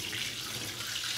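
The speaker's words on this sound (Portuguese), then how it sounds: "Um pouco d'água aqui rolar" Tap water pours steadily, a bright continuous hiss and splash, while Sega Mega Drive parts are rinsed at a sink. The sound is close and even throughout, with no voices.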